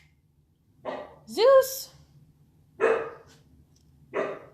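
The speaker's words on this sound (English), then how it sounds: "No barking." A dog named Zeus, a young puppy, barks three times in short sharp bursts, close by, with a whiny yip on the second, while a person speaks in the room.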